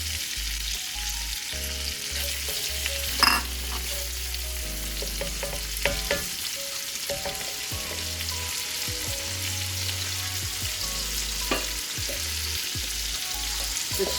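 Red onion and yellow sweet onion hit a frying pan for collard greens with ham hocks, a continuous close sizzle with scattered crackles and a few scrapes of stirring, no voices.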